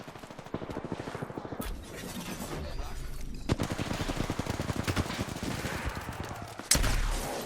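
Rapid bursts of shotgun fire in the Apex Legends shooter game, played as Mirage in a three-bin challenge, crackle in quick repeated volleys over a steady game soundscape, with a couple of louder close blasts standing out.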